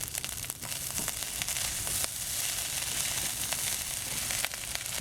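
Chinese pork sausage frying and browning in a pan for fried rice, a steady crackling sizzle with dense spitting pops and occasional sharper snaps, close and continuous with no talk.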